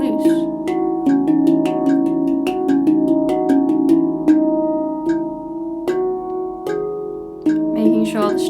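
Handpan played in even single strokes alternating thumb and finger, each note ringing with a sustained metallic tone and overlapping decay, a steady moderate rhythm of repeated strikes close up with no talking.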